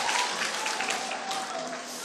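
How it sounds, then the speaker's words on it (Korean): Audience applause at a church training camp session, a steady wash of many hands clapping at moderate distance, with faint voices and a sustained tone beneath. "박수를 너무 치게 해서 미안합니다."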